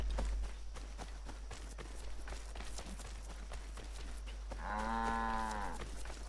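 A cow in Assassin's Creed 3 gives one long, clear moo near the end, after a stretch of game ambience with footsteps and movement, and no one speaks.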